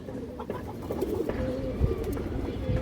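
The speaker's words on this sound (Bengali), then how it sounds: "একদম পুরান ব্লাডের কবুতর এগুলো" Pigeons of an old bloodline on a farm coo in low, throaty, rolling calls, several birds close by and overlapping in a steady murmur.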